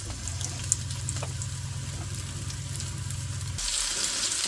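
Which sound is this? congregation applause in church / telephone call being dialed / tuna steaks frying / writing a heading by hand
tuna steaks frying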